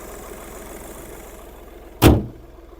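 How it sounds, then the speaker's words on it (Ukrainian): A 2015 Skoda Fabia engine idles steadily at low volume, a faint even hum with no one talking, broken near the end by one loud, brief thump like a car door shutting. "Двигун працює чітко"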